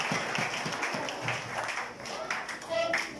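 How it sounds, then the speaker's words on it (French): A church congregation claps in a brisk, uneven patter that swells and eases over a few seconds, mixed with murmuring voices and a brief tonal squeak near the end. "Est-ce qu'on peut applaudir parole de Dieu matin?"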